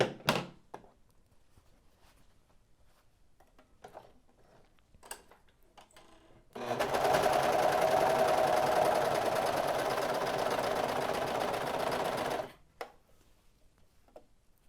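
A Brother 1034D serger sews stable fabric at its highest speed setting, a loud, steady mechanical whir running for about six seconds between quieter clicks and thunks of handling before and after.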